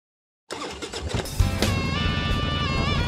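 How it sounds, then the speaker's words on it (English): A motorcycle engine kicks over after a moment of silence, then catches and revs hard a few times before settling into a loud, close, rumbling idle with no voices. "Kickstart that engine and roll thunder with the pack."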